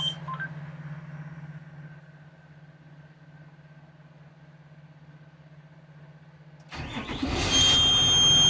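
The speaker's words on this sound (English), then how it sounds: "Then we will start the bus." A school bus has a steady low electrical hum and a few beeps at first, then its engine cranks and catches late on, rising into a loud, rough idle.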